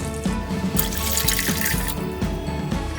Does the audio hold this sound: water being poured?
yes